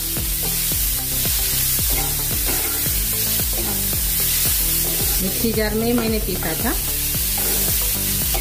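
Loud, continuous sizzle of coarsely ground onion hitting hot oil with well-fried spices for a potato and bottle gourd curry, with stirring clatter over the frying and someone talking over it.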